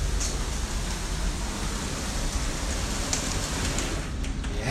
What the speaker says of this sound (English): It's raining so hard out here, I can barely hear myself talking.